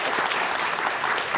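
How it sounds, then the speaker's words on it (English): A live studio audience claps steadily throughout a local evening talk show, dense and even applause from a room full of people with no pauses. "I feel like we should clap for that one"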